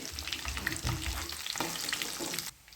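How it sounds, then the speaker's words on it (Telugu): Dry red chillies and curry leaves fry in hot oil for a tempering, giving a loud continuous crackling sizzle with sharp spattering pops that drops off abruptly near the end. "తాలింపు అయితే ఫ్రై అయిందండి"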